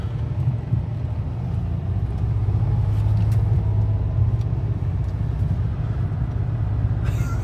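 A Citroën XM 3.0 car engine running steadily after a restart, a low, continuous rumble throughout with a brief louder flutter near the end; no talking.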